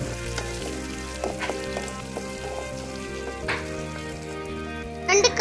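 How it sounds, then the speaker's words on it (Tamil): Okra (lady's finger) fries in oil in a clay pot with a steady close sizzle and crackle, with a few stirring scrapes and a louder spatter near the end. "வெண்டைக்காயை எண்ணெயோட சேர்த்து நல்லா வடக்கி விட்டுக்கோங்க."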